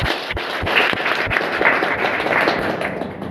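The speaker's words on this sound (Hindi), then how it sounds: "एक बार मैं चाहूँगा जोरदार तालियां उन शहीदों के लिए और उन शहीदों के परिवार के लिए।" Audience applause at a patriotic Republic Day speech honoring martyrs, loud crowd clapping with sharp, strong individual claps punctuating a dense roar, close and sustained throughout.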